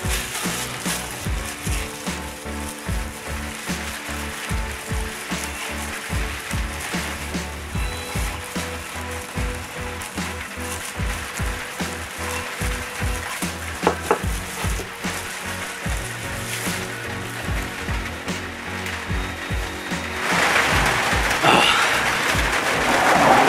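Steady rain falls outside during work on an old kerosene lamp restoration, a continuous broadband patter with scattered crackly drops that thickens and grows louder near the end, with no talking.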